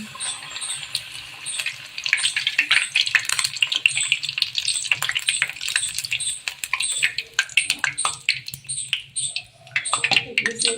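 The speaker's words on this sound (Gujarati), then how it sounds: "હવે આપણાને આને તળી લેશું તેલ પણ આપણું સારી રીતે ગરમ થઈ ગયું છે" Papad frying in well-heated oil in a pan for masala papad, a dense crackling sizzle with scattered sharp clicks and pops that thins toward the end.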